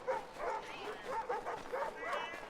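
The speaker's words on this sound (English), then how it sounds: "I'm hearing dogs." Dogs bark and yip in the video game Assassin's Creed III, a run of short repeated barks at moderate distance with some whimpering and an ambient game backdrop.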